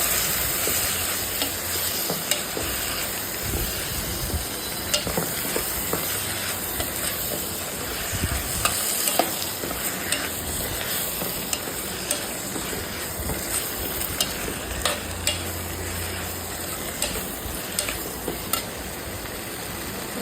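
Aritikaya tomato curry stirred in a pan, a steady sizzling hiss with a constant high whine and a long run of small scraping clicks from the spoon.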